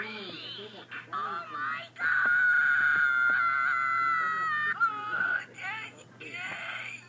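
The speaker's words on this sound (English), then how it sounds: "Oh, that's a screaming noise." Shrill screaming and honking cries from a FNAF plush skit about Molten Freddy come in bursts, with one long sustained wail in the middle, mixed with excited talking.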